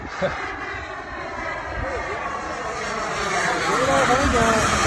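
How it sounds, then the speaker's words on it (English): A jet aircraft engine spools up in a model flight session, a rising whine and roar that builds steadily in loudness over several seconds, with voices talking underneath. "it takes a while for that jet to spool up"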